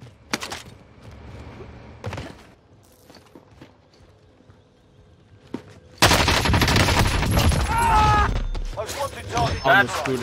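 Gunfire from the OTS9 in Warzone: scattered faint shots early on, then a loud, sustained burst of rapid automatic fire and game action filling the second half.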